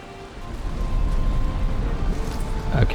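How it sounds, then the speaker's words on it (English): Steady rain hisses during a storm at sea in the Valheim video game. The broad, even wash of sound holds at a moderate level for a few seconds, with no one talking. "A proper storm."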